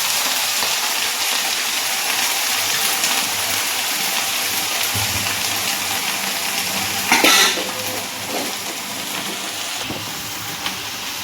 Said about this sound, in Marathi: हे पहा परतून घेते मी, आधी परतून घेते